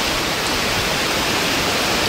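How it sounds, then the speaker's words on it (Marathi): Monsoon waterfalls at Malang Gad roar steadily in a dense, unbroken wash of rushing water, loud and constant throughout with no voices. "पूर्ण हा धबधबे सुरू झालेले आहेत"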